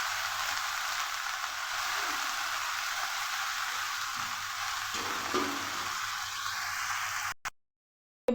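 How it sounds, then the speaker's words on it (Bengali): Chopped water spinach frying in a wok after chilies were fried in the oil, a loud continuous sizzle with occasional stirring scrapes for about seven seconds before it cuts off into silence. "এবার এই কড়াইয়ের মধ্যেই দিয়ে দেব আমার কুচিয়ে রাখা কলমি শাক।"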